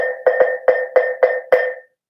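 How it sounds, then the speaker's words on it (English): A kulintang, an Indonesian gamelan gong, struck six times in an uneven rhythm, each hit a bright ringing tone cut short by the next, close and clear with no talking, then silence. "This first gong is called a kulintang."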